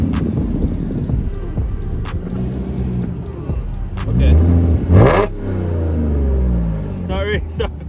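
An Audi S4 fitted with an Armytrix exhaust and mufflers revs in a loud, close burst, with a rising surge midway over a steady engine rumble, while a person speaks briefly.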